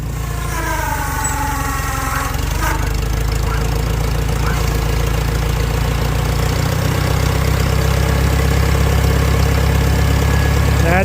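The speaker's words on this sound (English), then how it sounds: "Them old tractors just want to run." An old tractor engine idles steadily, a loud rough low chugging that stays even throughout, with no voices.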